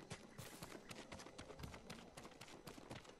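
Rapid clip-clop of a horse galloping across terrain in the video game Ghost of Tsushima, a steady rhythmic stream of hoofbeats heard close and fairly loud with no talk over it.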